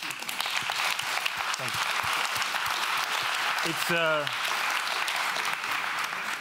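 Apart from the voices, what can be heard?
audience applause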